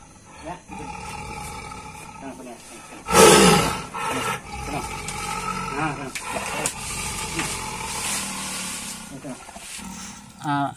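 A Sumatran tiger roars in Aceh, one loud, close burst standing out amid ongoing talk, with rumbling growls and voices continuing afterward.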